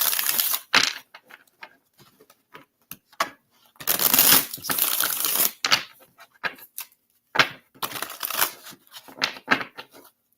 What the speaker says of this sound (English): Me and my tiny hands are so bad at shuffling cards.